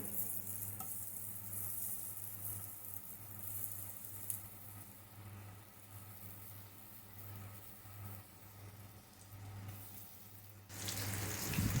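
Pieces of cornflour-coated paneer sizzle in hot oil in a pan, a soft continuous hiss under a steady low hum, with a brief louder crackle near the end.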